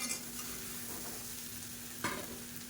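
A spoon stirs mint coconut masala and cooked dumplings for mint kolukattai in a pan, giving a soft continuous scraping and sizzle with one brief louder scrape near the end, quiet and close.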